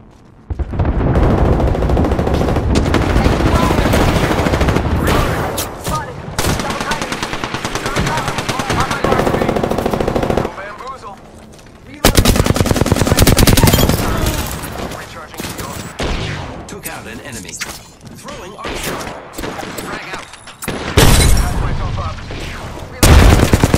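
Rapid automatic gunfire from the Apex Legends video game comes in long, loud bursts with short pauses, mixed with single shots and reload gaps.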